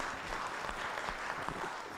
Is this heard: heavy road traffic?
no